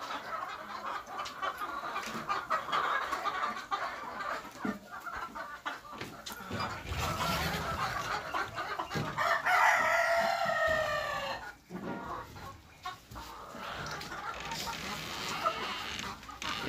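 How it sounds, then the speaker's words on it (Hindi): Egg-laying hens on a local chicken farm cluck continuously, with a rooster crowing once near the middle. The flock sounds close and busy against a steady farmyard background. "मुर्गियाँ जो है सभी अंडा देने वाले बेच का मुर्गी है"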